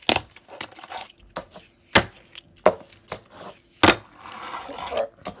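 Sharp wooden clacks of a fingerboard being popped and landing on a hard surface, several loud snaps in an uneven rhythm, close by, with no talking.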